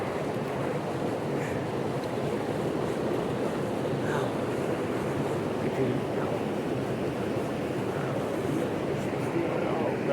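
A small mountain creek full of trout in a basin flows steadily, a dense continuous rush of water heard close and even throughout.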